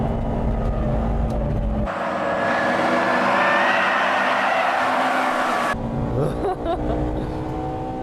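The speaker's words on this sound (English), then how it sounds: "That car is turbocharged, isn't it?" A turbocharged Subaru Impreza races on a track, its loud engine roaring steadily as it drives past, with a sustained rising-and-falling drone in the middle stretch and a quieter engine hum before and after.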